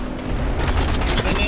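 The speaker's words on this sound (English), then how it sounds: "Shots fired at me." Gunfire in Apex Legends Mobile: a rapid volley of loud shots and booming impacts rattles on for about a second and a half, close and dense, with game voice cues mixed in.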